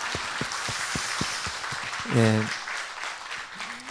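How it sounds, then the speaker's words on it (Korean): A church congregation applauding during a Sunday morning service, a burst of rhythmic clapping that breaks off as a voice speaks briefly. "우리 서로 또 감사하고 또 하나님께 우리 박수로 한번 영광 돌리겠습니다."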